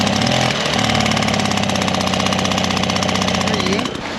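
A small engine running steadily close by, a loud rapid buzzing and rattling throb that fades near the end, with a voice speaking over it.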